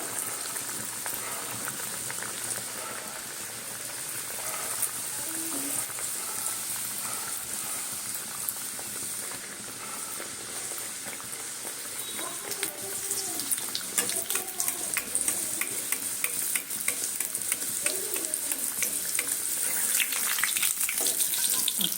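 Rolled kachoris are slipped into hot oil and fry with a steady, dense sizzle and bubbling that grows slightly busier over time, close and continuous with no voices.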